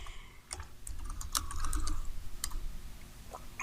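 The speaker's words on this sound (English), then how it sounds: "Your teacher's having trouble with his typing today." Close, uneven typing on a computer keyboard, a string of light key clicks and taps with short pauses over a low background hum.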